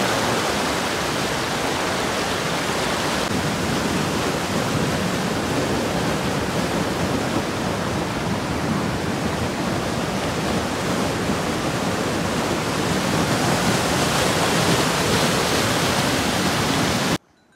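Loud, steady rushing of a flowing river near Sannighat in Nepal, a continuous broad roar with no pauses and no voices.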